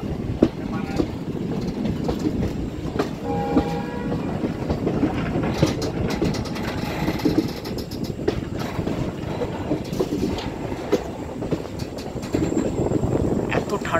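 A passenger train rounds a curve through the Meghalaya hills near Lumding, with continuous rumbling and clattering wheels on the rails and wind noise throughout, recorded from on board.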